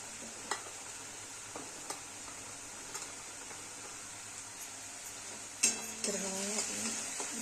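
Chole gravy roasting in hot oil in a pan, a faint, low sizzle with occasional soft stirring scrapes and clinks, growing a little busier toward the end.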